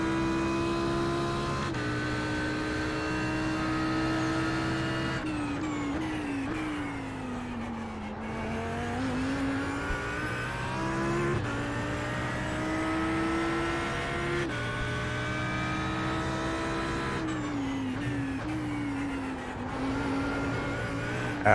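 Audi GT3 race car engine lapping Sebring in a racing video game, a loud continuous drone rising and falling through gear changes and throttle lifts, with no talk over it.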